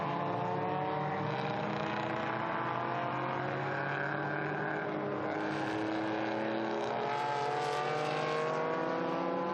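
Porsche 911 historic race car at Estoril, its engine roaring steadily at high revs with pitch shifting through gears, loud and continuous with no speech.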